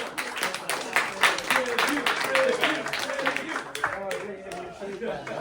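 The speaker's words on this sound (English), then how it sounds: "Let's give Ed a round of applause, everybody." Applause from a close-up magic show audience welcoming a volunteer to the stage, crisp individual claps that swell early then thin out, with voices talking and murmuring over the clapping.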